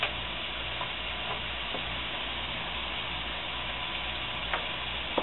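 Beef fried rice with soy sauce and bacon frying in a hot pan, a steady close crackling sizzle throughout with a few faint scrapes, no voices over it.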